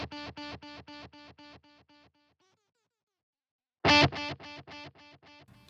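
An electric guitar played through a Blackstar BEAM amp with delay. A plucked note repeats as a row of fading echoes, then stops to silence and returns with another loud note that trails off the same way.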